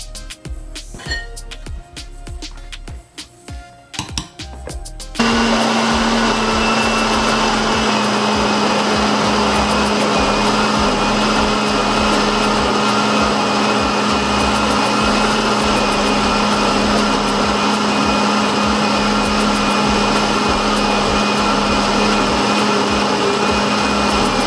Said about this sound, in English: I'm going to put the celery in and blend that as well.